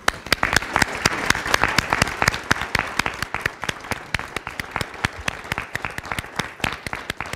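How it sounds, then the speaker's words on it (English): Crowd at a library Veterans Day commemoration breaks into sustained, even applause, many hands clapping in a thick, steady patter that continues without pause. "Let's give him a round of applause."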